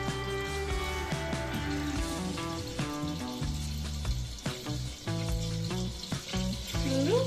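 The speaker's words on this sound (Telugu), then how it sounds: "కుక్కర్లో ఆయిల్ వేసుకున్నామండి పోపు పెట్టుకోవడానికి" Hot oil sizzles and crackles steadily in a pressure cooker as spices are tempered for a traditional tamarind curry, a loud continuous frying hiss with bursts of popping throughout.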